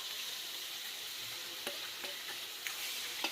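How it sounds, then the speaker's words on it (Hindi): Ground pumpkin fries in a pan with cumin and asafoetida, a soft continuous sizzle broken by a few light scrapes of stirring, close and quiet, with no voices. "उसका जो हमने कद्दू पीस कर रखा है उसको डालेंगे"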